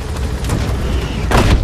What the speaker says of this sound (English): Just be a fucking dick and start throwing grenades.